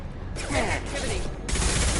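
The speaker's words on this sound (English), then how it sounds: "Firing a high-impact shot!" High-impact gunshot from a weapon in Mass Effect 2 (PS4), a broadband blast that kicks in mid-clip and again near the end, loud and close over game background with some voice activity underneath.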